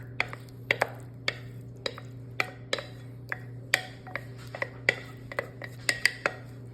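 A metal spatula rattles among kitchen utensils while beef dishes are being cooked, giving a string of sharp, close clinks and taps of metal on metal and pans over a steady low hum.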